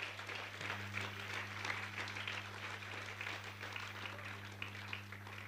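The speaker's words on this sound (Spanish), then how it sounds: "Dele fuerte esas palmas al Señor." Church congregation clapping their hands together in a steady, dense round of applause, filling a reverberant hall at moderate loudness with a constant low hum beneath.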